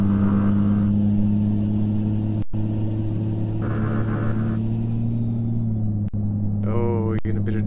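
Loud, steady low drone of a Peterbilt 389 truck engine from a Euro Truck Simulator 2 sound mod, holding a constant throttle for most of the stretch with brief gear-shift-like dips and a short click near the end.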